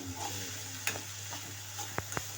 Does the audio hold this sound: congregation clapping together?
no